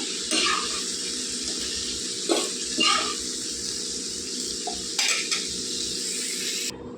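Red chillies frying in a pan for tomato-chilli chutney, with a steady low sizzle and occasional scraping stirs. No one speaks.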